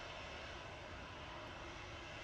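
A KLM Embraer E175 jet arriving from Amsterdam at Manchester Airport, coming in to land after a go-around, its engines a steady, broad, distant roar with no breaks and no voices.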